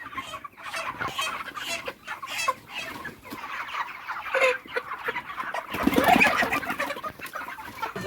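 Broiler poultry chickens, about 37 days old, cluck and call throughout on a farm, a dense and fairly close flock chorus with busier bursts partway through.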